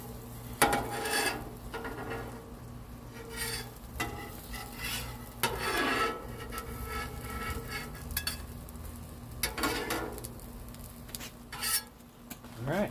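Breakfast tacos with chorizo, eggs and potatoes sizzle steadily in a pan outdoors on a hot day, while a spatula scrapes and clanks against the metal in several bursts as the tacos are folded and flipped.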